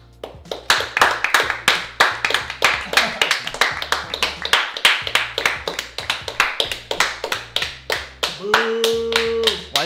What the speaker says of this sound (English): His clapping is like absurdly loud.